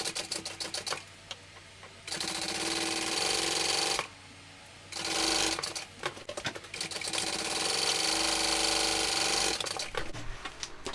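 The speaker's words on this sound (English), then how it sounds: "we're sewing that with the seam allowance given in the pattern" A sewing machine stitches purple fabric pieces together along a seam, running in fast mechanical bursts of rapid chattering stitches with short quiet pauses between runs.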